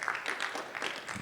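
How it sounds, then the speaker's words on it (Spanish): Brief applause from a small church congregation, a soft ragged patter of several pairs of hands clapping at a moderate distance, faint and short. "aplauso, por favor"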